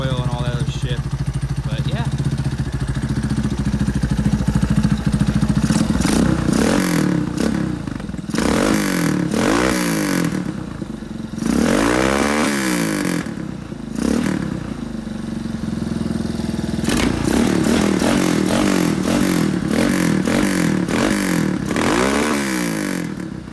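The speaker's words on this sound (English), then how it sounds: "was barely cracking the throttle there, so it gets louder" A Yamaha Warrior YFM350 ATV engine runs and revs repeatedly, loud and close, with rising and falling throttle sweeps and some clattering, while someone talks over it at times.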